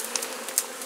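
Honeybees buzz around a hive being closed up after a swarm capture, a soft continuous drone with a few nearer individual bees briefly flying past.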